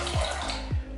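Two short wet squelches of water being squeezed out of a soaked Billy Goat Monolith shaving brush, close and soft, with a faint trickle between them.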